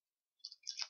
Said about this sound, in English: Oh, I just started typing.